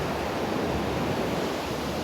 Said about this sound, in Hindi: I have come to the beach alone now, जहाँ पे मैं और प्रज्ञा आए थे